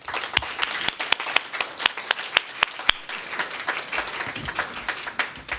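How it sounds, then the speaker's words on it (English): A crowd claps steadily for several seconds at a city council election forum, with sharp individual claps standing out from the steady applause. "we should end the evening by giving them a huge round of applause"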